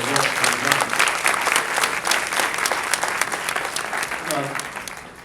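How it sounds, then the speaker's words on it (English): A luncheon and fashion show audience breaks into steady, dense applause that fills the room and slowly fades, with a speaker's voice heard briefly at the start and near the end. "So we should applaud those gentlemen"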